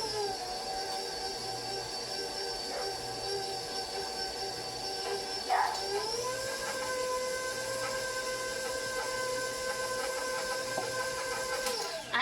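Electric mixer running on low while making a homemade cookie cake, a steady whirring motor drone with a shifting pitch partway through, continuous and fairly close, no talking over it.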